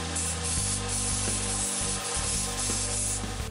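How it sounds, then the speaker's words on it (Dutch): Hand sanding of a small piece of wood makes a loud, close, steady scratchy rubbing with rhythmic back-and-forth strokes. "Dit schuren we even af."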